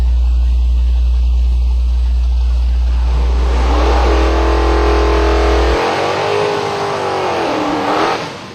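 1967 Chevelle race car at a drag race at Silver Dollar Raceway, a loud engine rising into a hard rev with climbing harmonic pitch, then easing and surging again, close and prominent.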